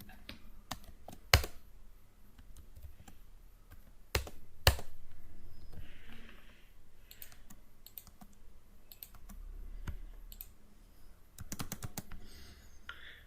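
Typing on a computer keyboard during Windows system programming in C/C++, heard as scattered key clicks with a few louder taps, steady and close, with no talking.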